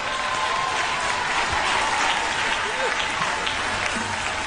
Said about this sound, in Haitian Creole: Bah, l'éternel applaudissement.